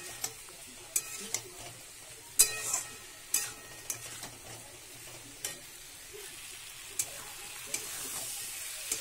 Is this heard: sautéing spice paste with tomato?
yes